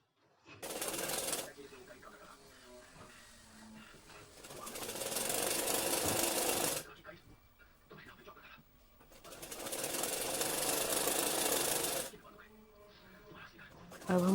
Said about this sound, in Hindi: देखो, अब इसको हम लगा लेते हैं सिलाई।